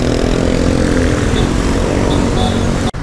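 City bus number 69 rolls in through Saigon traffic, a loud, steady engine drone with a low rumble and passing motorbikes, then a sharp knock near the end.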